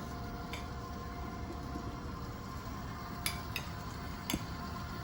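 A stand mixer runs at its lowest stir speed through cream cheese pound cake batter, giving a steady, even motor drone with a few faint clinks near the end and no talking.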